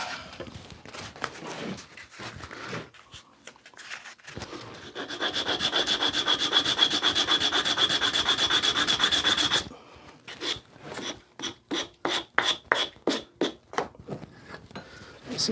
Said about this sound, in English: get one of your random blocks of wood and a piece of sandpaper